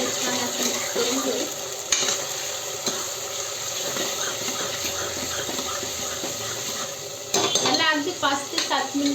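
Chopped tomatoes are stirred into lightly golden fried onions in a pan for Mumbai street-style pav bhaji, giving a steady sizzle with spoon scrapes and a couple of louder clatters against the pan.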